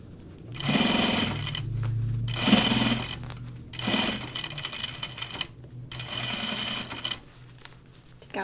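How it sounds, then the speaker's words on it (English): A sewing machine stitches through thick jacket fabric with canvas layers, running in several steady bursts of a few seconds each, separated by short pauses, close and fairly loud with no talking. "I'm gonna walk my machine because it's really thick right there."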